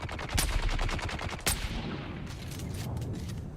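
Rapid automatic gunfire rattles in a Dune Awakening fight, a dense burst of close, loud shots with a sharp crack partway through, then a lighter stream of firing trailing off.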